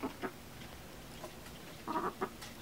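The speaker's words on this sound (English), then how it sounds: "it's the little chicks." Small young chicks peeping and clucking in short bursts, several close chirps clustered near the end, with no talk.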